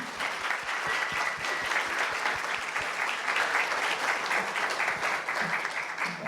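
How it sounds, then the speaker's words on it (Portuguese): An audience applauds a guest speaker, Haroldo, at the close of a lecture, steady sustained clapping from many hands throughout, fairly even in loudness with no talk over it. "Queria pedir mais uma salva de palmas para o Haroldo aqui."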